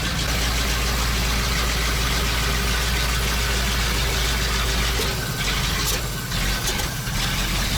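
A ZIL truck crane's engine idling while it warms up, a steady loud low rumble with a rough uneven beat throughout, close by and without speech.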